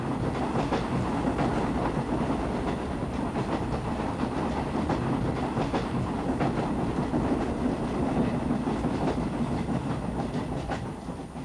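A train rolls along the rails in a steady, continuous rumble with faint clickety-clack, fairly loud and unbroken for over ten seconds, no voices heard.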